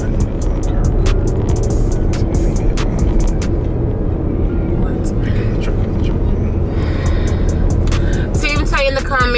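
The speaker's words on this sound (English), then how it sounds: "Y'all see this traffic. This traffic is crazy." Heavy road traffic heard from inside a car: a steady, loud low rumble of engines and tyres fills the cabin throughout, with occasional brief higher noises and a rising whine near the end.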